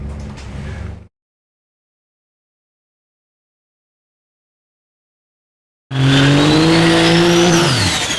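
A race vehicle, likely a diesel drag truck, launches hard down a drag strip. Its engine roars loudly with rising harmonics and tire squeal after a silent gap, following a brief burst of engine noise at the start.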